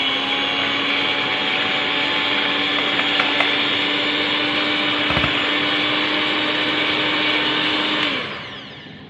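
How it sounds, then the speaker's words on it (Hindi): An electric blender whips egg whites for a fruit cake, running as a loud, steady, high whine for about eight seconds before cutting off and spinning down. "अब मैंने सफेदियों को मैंने ब्लेंड कर लिया है अच्छे से"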